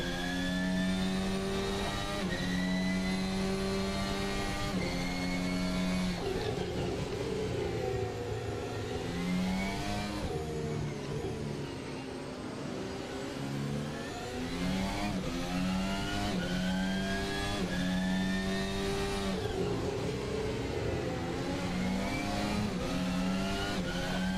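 An F1 car engine in an Assetto Corsa 2 mod screams under throttle, its pitch sweeping up and down through repeated gear shifts, loud and continuous from start to finish.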